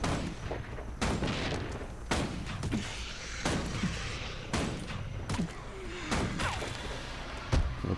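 Guild Wars 2 Precise Shot attacks land as a string of sharp, loud shots at roughly one-second intervals, each with a quick whooshing tail over a busy combat background.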